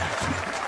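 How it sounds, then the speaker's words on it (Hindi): A short burst of audience clapping at a rural gathering with farmers, an agriculture officer and a veterinary doctor, close and fairly loud, lasting under a second. "तालियां बजाओ।"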